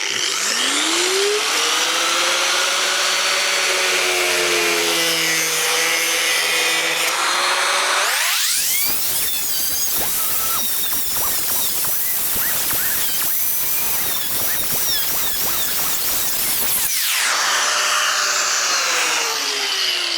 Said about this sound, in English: Better get a grinder out.